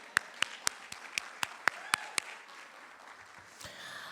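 Sharp, evenly spaced claps ring out at a women's conference keynote, about ten crisp hits, probably a single person or a small group clapping in rhythm, before fading into low room noise.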